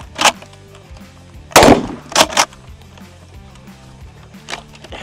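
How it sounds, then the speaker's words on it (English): Sharp, loud gunshots from a Crossfire Mark 1 production firearm, a few spaced reports: one early, a heavier blast near the middle followed quickly by two more, then a fainter shot near the end. "This is the most cursed production firearm I've ever shot."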